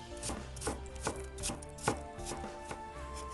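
A knife chops a peeled apple into small dice on a cutting board, a steady run of about a dozen close, crisp blade strikes with no talking.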